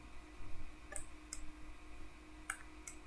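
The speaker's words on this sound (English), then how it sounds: "If I left click and drag, I can add images into my window here." A computer mouse left-clicks while images are dragged into a window of dental imaging software: four sharp, faint, isolated clicks spaced irregularly over a quiet, steady background.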